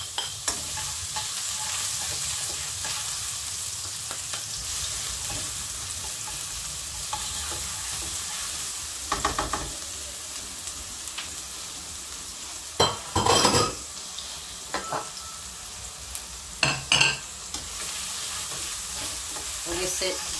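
An onion frying in a pan for a chicken-breast curry pasta, with a continuous sizzle under repeated stirring scrapes and a few sharper utensil clatters against the pan toward the end.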